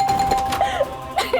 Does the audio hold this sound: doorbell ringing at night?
yes